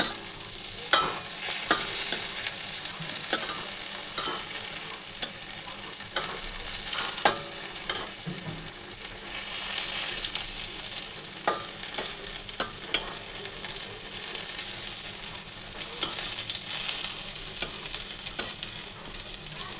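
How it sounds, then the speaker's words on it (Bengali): Bitter gourd sizzles steadily in hot oil in a wok while being stirred, with close, repeated scraping strokes running through a constant crackling fry for the whole stretch. "এই যে কড়াই বসিয়ে দিয়েছি তো এই যে বন্ধুরা আমার করলা ভাজা হয়ে গেল"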